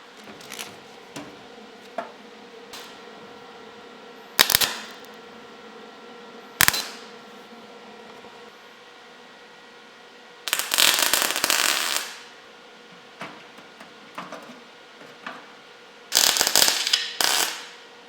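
Welding on a rusty Alfa GTV boot lid, building up cracked rear corners: sharp crackling bursts of weld arc, some brief and some lasting a second or two, separated by quiet gaps over a faint background hum.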